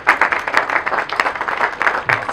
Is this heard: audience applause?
yes